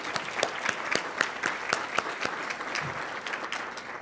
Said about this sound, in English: I just wanted to take a moment and do a round of applause for our presenters tonight